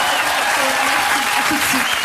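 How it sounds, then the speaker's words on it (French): Studio audience applauding steadily, a dense, even wash of clapping that stays loud throughout with no gaps. "Je crois que vous pouvez l'applaudir encore plus fort."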